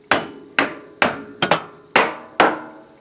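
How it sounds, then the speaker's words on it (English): A mallet taps a Honda Civic axle into the transmission with six sharp, solid knocks in an uneven rhythm, two coming close together, each ringing briefly. The blows are close and loud, and nobody speaks. "I'm just going to take a mallet"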